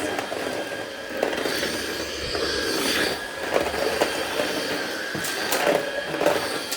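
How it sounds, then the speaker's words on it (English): A cordless vacuum cleaner runs over a floor in high-traffic areas of a home, giving a steady whirring hum with clicks, bumps and rattles as it is pushed about; no talking is heard. "it's so much quicker with a cordless vacuum"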